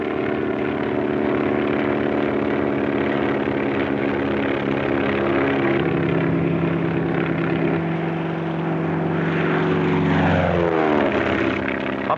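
Light, fast propeller planes from 1935 skywriting footage drone steadily and loudly throughout, the engine pitch shifting and dropping near the end as a plane passes.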